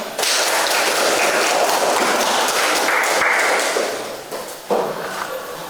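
Group applause from a class of students, a dense burst of clapping lasting several seconds that fades toward the end before a final brief flurry.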